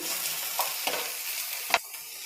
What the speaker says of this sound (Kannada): ಈಗ ಬೆಂಡೆಕಾಯಿನ ಫ್ರೈ ಮಾಡೋದಕ್ಕೆ ಒಂದು ಸ್ಪೂನ್ ಆಗೋಷ್ಟು ಎಣ್ಣೆ ಹಾಕ್ಕೊತಾ ಇದ್ದೀನಿ ಹಾಗೆಯೇ ಕಟ್ ಮಾಡಿಟ್ಟಿರೋಂಥ ಬೆಂಡೆಕಾಯಿ ಸೇರಿಸ್ಕೊಳ್ತೀನಿ